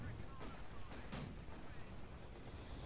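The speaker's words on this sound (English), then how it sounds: "I've unlocked heavy barrage now, so I've heavy barraged his AT guns." A heavy artillery barrage in a British 3v3 strategy game, heard as faint, distant, muffled booms scattered over a steady low rumble.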